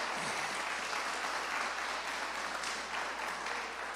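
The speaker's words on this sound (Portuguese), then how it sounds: "Bate palmas para Jesus." A church congregation claps in praise during a Portuguese-language sermon, a dense, continuous wash of applause at full strength from start to finish, with no voices over it.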